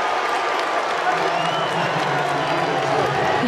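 A packed college basketball arena crowd at an NC State Wolfpack home game against Florida State gives off a steady, loud roar of cheering and clapping that holds for a few seconds, while an announcer talks over it.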